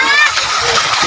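Splashing, trickling water at the source of a small river during a countryside outing, close and bright, with a voice or two briefly mixed in over the short burst.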